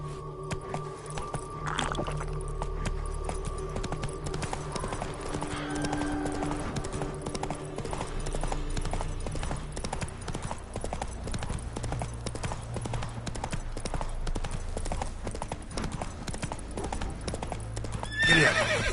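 Horse hooves clip-clop steadily through an open-world setting in The Witcher 3 on PS5, with whinnies and neighs rising over a continuous ambient game soundtrack.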